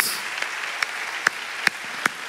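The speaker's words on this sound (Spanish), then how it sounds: "Damos un fuerte aplauso a Jesús." A congregation in a church service claps for Jesus, a soft, scattered applause with a few sharper individual claps standing out at intervals, fairly distant and brief.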